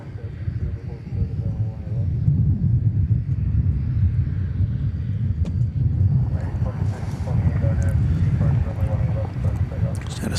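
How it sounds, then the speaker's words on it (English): A Delta Airbus A220 landing at DFW airport, a continuous loud low rumble with heavy wind noise that swells and holds throughout. "We've got Delta Flight 870 coming in from Seattle. It's Airbus A220."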